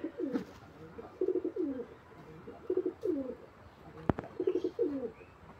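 Domestic pigeons at a pigeon seller coo close by in repeated soft rolling phrases, several bursts in a row with brief pauses between them, plus a single sharp knock partway through.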